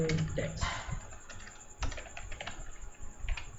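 Typing on a computer keyboard to enter plain text, with soft close key clicks tapping in short uneven bursts, quiet and without speech.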